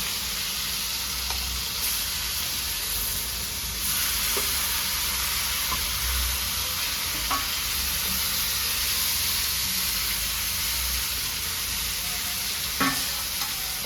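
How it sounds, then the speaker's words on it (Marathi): Marinated chicken fries in oil in a pan over a wood-fired stove, giving a steady, close sizzle with occasional stirring clinks and no talk. "तेलावरच आपल्याला शिजवायचं चिकन, तेल आणि डायरेक्ट चिकन टाकायचं आपल्याला"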